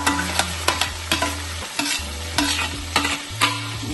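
Marinated chicken for biryani sizzles in a pan with cumin seeds while a utensil scrapes and stirs it in regular strokes, producing close, repeated scraping over a steady frying hiss.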